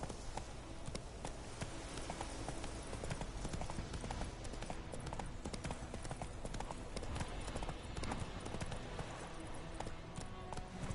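Video game horse Roach galloping, a steady dense clatter of hooves that runs loud and continuous throughout, with busy game sound layered around it.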